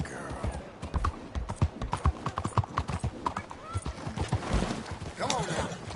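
A horse gallops in Red Dead Redemption 2, rapid rhythmic hoofbeats pounding close up, with a neigh near the end and a rider's voice talking over the hooves.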